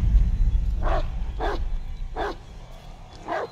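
A dog barks in a video game: four sharp barks come at fairly even intervals over a low, rumbling background.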